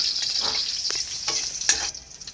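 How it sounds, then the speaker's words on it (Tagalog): Sliced ginger sizzles and crackles in hot cooking oil for a chicken tinola, a steady close frying hiss with a few sharper pops and a brief stir toward the end. "mainit na ang mantika. Ilagay na natin ang luya."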